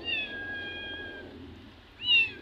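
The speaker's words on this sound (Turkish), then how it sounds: "Ne miyavlıyorsun?" A stray cat meows outdoors near a tree, with one drawn-out meow followed after a pause by a shorter, sharper second meow, both close and clear.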